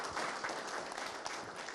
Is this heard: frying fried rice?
no